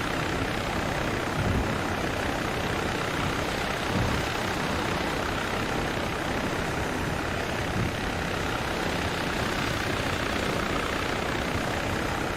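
Helicopter in the video game Arma 3, a steady broadband rotor and engine drone that stays loud and constant throughout with no speech over it.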